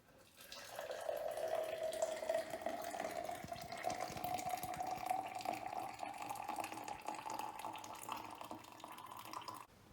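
Liquid herbal medicine pours steadily from a pot into a cup, a continuous splashing stream with a faintly rising pitch as the cup fills, heard close and alone.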